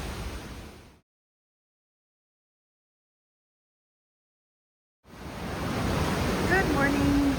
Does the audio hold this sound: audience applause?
no